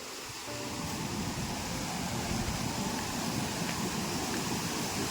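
A farm-side stream rushes with a broad, steady wash of flowing water, loud and close, starting after a brief quieter moment and holding constant without any voices.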